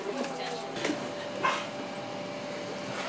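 Shelter dogs from New Jersey and Long Island, displaced by Hurricane Sandy, give faint barks and whimpers over a low background hum, with a murmur of voices nearby.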